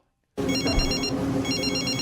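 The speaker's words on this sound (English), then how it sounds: "like the phone rings in Tom Homo's office." An office telephone rings after a brief silence, a steady trilling bell pattern that stays loud and close, with no voices over it.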